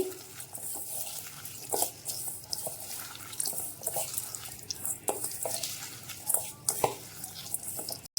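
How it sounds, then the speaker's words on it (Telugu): Salt, green and dried red chillies and onions are mixed by hand in a bowl for raw tamarind stew, giving a close, steady wet squishing and rustling with irregular soft clicks, with no voices. "మనకి ఉప్పు పచ్చిమిర్చి ఎండుమిరపకాయలు ఉల్లిపాయలు ఇవన్నీ వేసి బాగా మిక్స్ చేసుకోవాలి"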